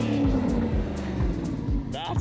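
A loud supercar engine with a new exhaust roars and rumbles with sharp crackling pops from the exhaust, continuous throughout, with a voice briefly heard near the end.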